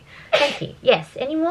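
A single sharp sneeze bursts out near the mic, followed by close talking.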